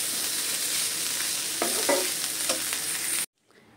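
Bitter gourd and potatoes stir-frying in a pan, giving a steady close sizzle with a few scraping stirs before it cuts off abruptly.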